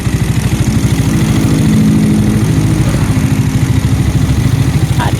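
A 2021 Yamaha Nmax scooter, just reassembled after a cracked head cover repair, idles with a loud, close, steady putter and even low throb that keeps going throughout.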